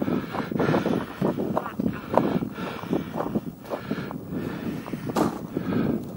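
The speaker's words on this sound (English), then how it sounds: "Damn you, wind!" Gusty outdoor wind buffeting the microphone on a sunny day of flying, a loud continuous low rumble that swells and dips in irregular waves.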